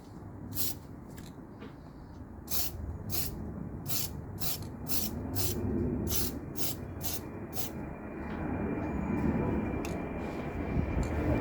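Spray paint applied to a curb-rashed car wheel in a series of short, sharp bursts, about a dozen quick sprays with brief gaps between, over a steady low background rumble.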